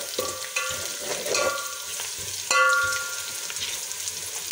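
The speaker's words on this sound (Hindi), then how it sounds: "बिल्कुल हल्का सा फ्राई करना।" Whole spices such as cinnamon and green cardamom fry lightly in oil for a chicken yakhni pulao, giving a soft close sizzle with intermittent stirring scrapes and clinks.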